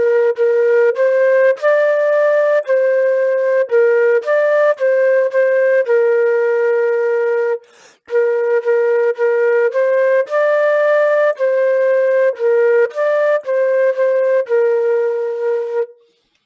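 Solo flute playing a melody, clear close legato notes stepping through a simple tune, with a brief breath pause midway and no talking.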